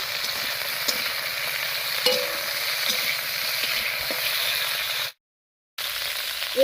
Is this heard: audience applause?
no